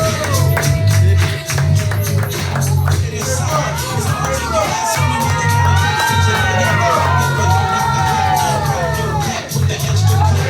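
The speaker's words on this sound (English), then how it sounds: "give a warm round of applause" A loud comedy club crowd cheers, whoops and shouts continuously, with bursts of excited voices over a dense roar of noise.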